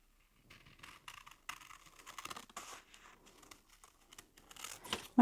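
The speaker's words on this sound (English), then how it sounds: "I'm going to cut around those." Scissors snipping and paper rustling close by as photographs are cut out for a craft project, an irregular run of small crisp cuts and crinkles that grows louder at the end.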